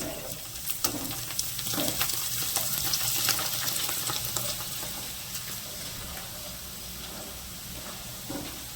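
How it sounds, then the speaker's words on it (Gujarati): Small bhungla fryums sizzle in hot oil for chevda, a soft, steady crackling fizz with faint stirring clinks scattered through it. "આ નાના ઝીણા ભૂંગળા છે ને એ તળી નાખશું."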